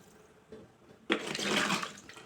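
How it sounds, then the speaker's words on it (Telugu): Water is poured into a pot of country chicken curry, starting about halfway through as a sudden, close, splashing gush that keeps running steadily to the end after a quiet start. "అందుకని నేను మూడు గ్లాసులు వాటర్ పోస్తున్నాను"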